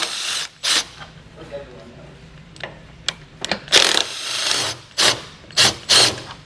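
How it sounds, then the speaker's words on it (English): A ratchet with a regular 15mm socket backs out the lower exhaust fasteners while a Draw-Tite Max-Frame trailer hitch receiver is fitted, in several short, close clicking bursts separated by brief pauses. "We're going to use a regular 15mm socket to do so."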